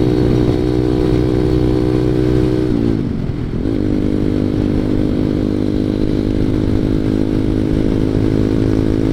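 A ZS 190cc Honda Grom clone motorcycle engine drones loud and steady while riding, with a brief dip in revs partway through before settling back into a constant buzzing hum, with no talk.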